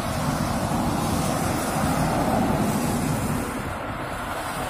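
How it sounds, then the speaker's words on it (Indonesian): Steady, dense roadway traffic on Jalan Soekarno-Hatta, a continuous broadband rumble of passing vehicles heard at moderate loudness with no voices. "beginilah suasana lalu lintas di Jalan Soekarno-Hatta"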